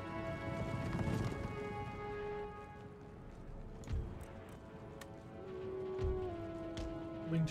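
Winged hussar cavalry charge in the Empire: Total War video game, with a muffled rumble of hoofbeats and scattered thuds running under a steady game music bed.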